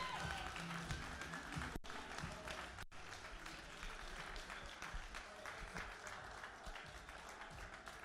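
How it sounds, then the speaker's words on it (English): Sustained applause fills the air from an audience at the Bay Games Grand Slam 2019, honoring two athletes; dense clapping stays loud and steady throughout, with two abrupt brief dropouts near the start. "Put your hands together for Heidi and Meg."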